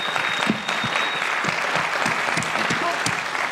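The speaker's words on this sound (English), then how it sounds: "just quick round of applause for everybody who's here" A concert audience in a room gives a steady round of applause, dense clapping holding at an even level throughout, with some voices mixed in.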